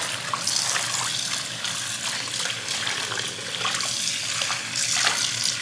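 Water runs steadily from a sink tap while turnip greens are washed, a loud, continuous splashing gush with small bursts of agitation throughout and no talking.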